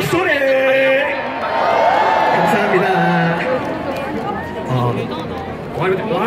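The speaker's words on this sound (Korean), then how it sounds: "마지막으로 함성 소리" An audience at a live hip-hop performance cheers and screams, a loud wash of many overlapping voices with rising whoops that swells, dips briefly, and surges again.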